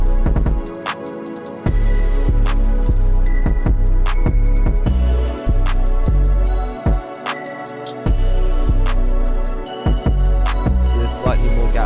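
A trap beat pumps loud and steady, booming 808 bass notes shifting pitch under crisp ticking hi-hats and snappy drums, with brief drops where the low end cuts out.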